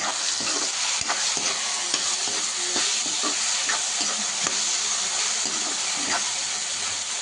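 Tomatoes stirred in a pan of crab masala curry: a spoon scrapes and clatters in repeated strokes over a continuous close sizzle.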